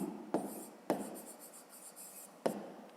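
Pen or chalk writing out a math equation, a few scratchy strokes with sharp onsets and short gaps, close and fairly quiet, no speech.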